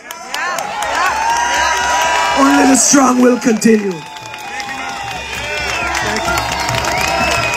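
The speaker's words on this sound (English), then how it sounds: "Give this guy a round of applause." A crowd at an outdoor freedom rally in Ottawa cheers, whoops and claps loudly, the ovation swelling and then holding steady while someone speaks over it through the public address.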